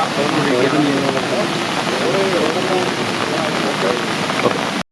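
Steady, heavy rain hisses throughout while a person talks over it.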